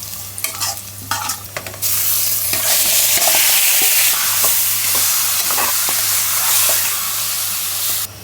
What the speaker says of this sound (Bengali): একটু পেঁয়াজ ভেজে।